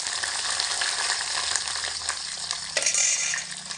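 Large chunks of onion hit a hot pan and fry with a loud, steady sizzle, a brief clatter of stirring near the end, no voices.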